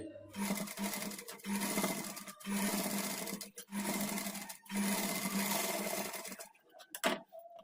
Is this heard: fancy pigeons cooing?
no